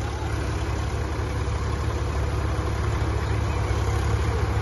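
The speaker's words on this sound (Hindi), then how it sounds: "देखिए कैसे महिंद्रा यूटेक प्लस आगे जा रहा है 405 एंड स्वराज कैसे पीछे होता हुआ।" Two tractors, a Mahindra 405 Yuvo Tech Plus and a Swaraj 735, strain in a pulling contest, with engines giving a steady, heavy low rumble that runs without a break.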